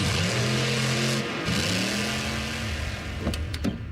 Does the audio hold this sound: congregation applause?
no